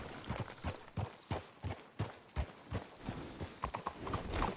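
Horses in Red Dead Redemption 2 clip-clop in a steady, fairly close rhythm of hoof strikes on the ground, with a faint whinny mixed in and no speech.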